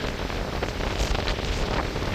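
Strong wind on a beach at night roars steadily and loudly across the microphone, with gusty rumbles and a faint wash of surf underneath.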